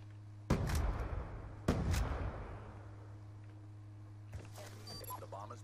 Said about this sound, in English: I'm gonna grenade him.